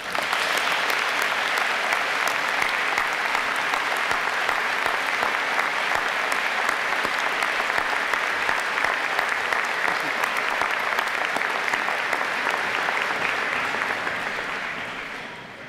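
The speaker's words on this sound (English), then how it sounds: "Please join me in another warm round of applause for all of our graduates." A large convocation crowd at the University of Winnipeg applauds its graduates, with loud continuous applause from many hands sustained for about fifteen seconds before tapering off.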